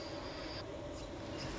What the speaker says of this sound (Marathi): ट्रेनमध्ये सीट मिळाली मला, माऊला, माऊच्या पप्पांना